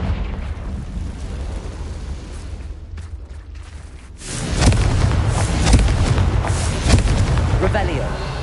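A Confringo blasting spell goes off in Hogwarts Legacy: a quieter stretch of game ambience, then a sudden heavy boom that swells into a loud rumbling burst with crackling pops after it, while a voice speaks over the game sound.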